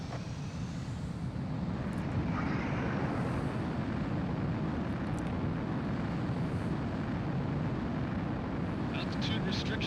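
A fighter jet in Ace Combat 04 roars through its takeoff run, a loud, steady broadband engine rumble filling the whole stretch with little change, with a game voice talking over it.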